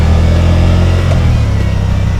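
A 2010 Can-Am Spyder RT three-wheeled motorcycle engine runs in first gear on a demo ride, a loud, close, steady low drone with a slight dip in level midway.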